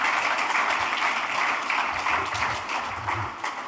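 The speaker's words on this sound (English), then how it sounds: "A round of applause again for that" An audience applauds at a trade seminar, a steady wash of clapping that holds for the whole stretch and eases off slightly toward the end.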